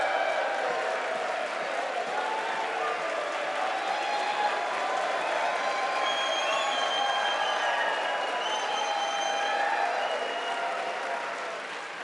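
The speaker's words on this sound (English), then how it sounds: "Thank you for that very generous applause." A large crowd applauds steadily and enthusiastically, a dense continuous roar of clapping that holds for the whole stretch.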